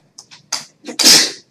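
A single loud sneeze bursts out after a few short sharp breaths, close to the listener and alone.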